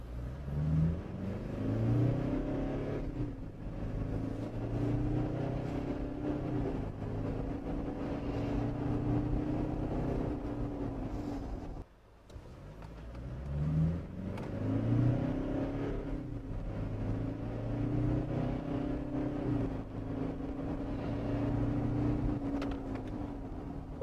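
An updated Toyota Prado and a pre-facelift Prado, rated at 210 and 177 horsepower, accelerate side by side in a drag race. The engines give a loud, steady roar that drops off sharply for a moment midway and then builds again.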